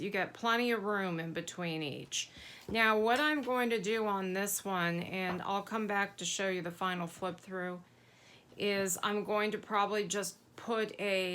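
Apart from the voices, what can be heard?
None of the usual background noises is heard.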